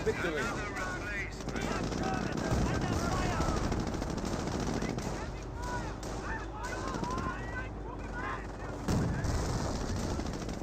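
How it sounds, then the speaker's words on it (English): A Nebelwerfer barrage fires in Company of Heroes, a rapid crackling of launches and blasts rolling on for several seconds at moderate loudness, dense and continuous, with short gaps before more rounds go off. "Nebworth firing a barrage"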